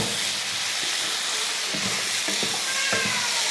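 Potatoes fry in a pan with a steady, loud sizzle as they are stirred, with faint scraping and clinking of a utensil repeating through the frying hiss.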